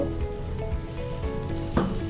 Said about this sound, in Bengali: আমি পেঁয়াজটাকে একটু ভাজা ভাজা করে নিয়েছি, সমস্ত মশলা একটু ভেজে নিয়েছি।